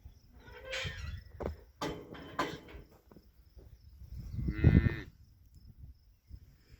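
Cattle on a farm with calves nearby give a few mooing calls, one long, loud low bellow standing out amid quieter scattered calls and brief rustling sounds.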